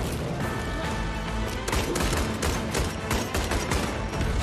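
Dense, rapid gunfire in a video game trailer crackles nonstop, loud and chaotic, like a sustained barrage of many shots overlapping.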